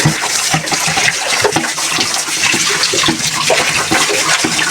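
Sprite poured into a pot of simmering chicken adobo with chicken feet and gizzards makes a steady splashing, bubbling liquid sound, close and fairly loud throughout.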